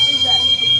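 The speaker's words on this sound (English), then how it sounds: "All right, it's the pressure cooker. All right, that's pretty loud." A pressure cooker whistling loudly and steadily as a sustained shrill tone for the whole moment, with voices in the room around it.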